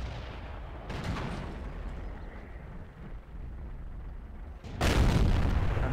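Tank cannon fire in World of Tanks from a KV-3 heavy tank: a sharp shot near the start, then a heavier, louder blast near the end, over a steady rumbling battle background.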